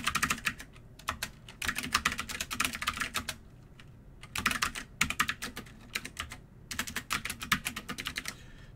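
Someone types on a computer keyboard in bursts of rapid key clicks, with short pauses between runs, close and fairly quiet.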